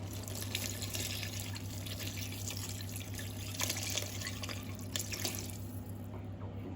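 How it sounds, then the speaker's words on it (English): Stock pours steadily into a cooking pot in a home kitchen, a continuous liquid splashing and trickling over a low steady hum, with no voices. "we're just going to grab our stock, pour it in"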